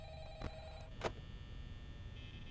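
A phone rings in the night-guard office of the video game Five Nights at Freddy's, a short faint electronic burst followed by a second ring, set against a low steady hum.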